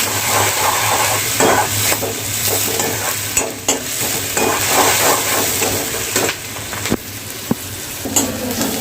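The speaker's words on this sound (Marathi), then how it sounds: "कांद्याला आता तेलामध्ये फ्राय करून घ्या आपल्याला चांगलं फ्राय करून घ्यायचं आहे" Onions fry in oil in a pan for a potato and egg curry, with a loud, steady sizzle and frequent stirring scrapes and taps running throughout.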